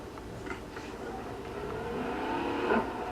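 Car engine in the video game Far Cry 3, a steady mid-level drone that rises slightly toward the end, with a voice talking over it throughout.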